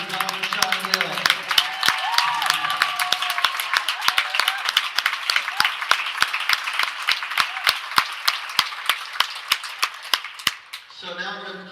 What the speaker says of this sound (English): A nice round of applause for Dr. Don Shondell